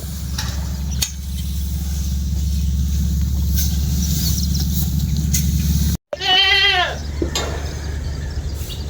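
A Boer or Anglo goat bleats loudly and close with a wavering cry, over steady engine-like background rumble and some indistinct voices, on a farm in Mexico, Pampanga.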